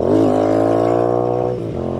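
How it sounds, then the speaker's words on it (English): A Royal Enfield Interceptor 650 with aftermarket AEW exhaust pipes fires up and settles into a loud, throaty rumble up close, dipping briefly before picking back up. "Boy, she just sparks to life"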